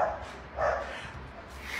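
A dog barks about three times in short bursts, fairly near and spaced out, over low background noise.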